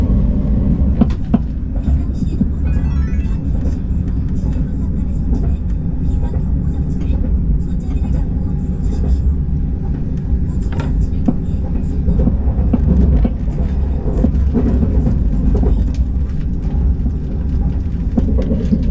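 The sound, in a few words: KTX train running on the Gyeongbu line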